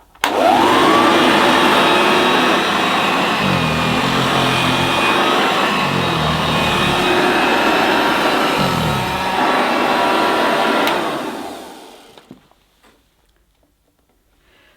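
A 1976 Hoover Dirtsearcher upright vacuum cleaner runs on a living room carpet, its loud motor roar rising quickly and holding steady with slight shifts as it is pushed, then winding down to silence.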